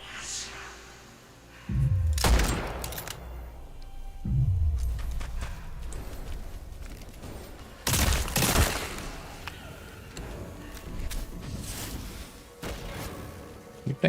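Sniper gunfire rings out in the video game Witchfire, with a handful of heavy booming shots spaced a few seconds apart, each followed by a low rumbling tail, under a faint game ambience.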